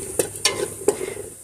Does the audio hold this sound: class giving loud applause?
no